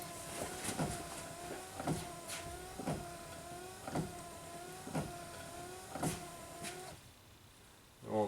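Worn Subaru rear wiper motor drawing too much current, whining through repeated sweeps about once per second with a soft clunk at each reversal, near and fairly quiet, then cutting off near the end.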